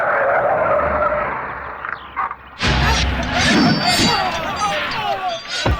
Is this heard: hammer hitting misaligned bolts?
no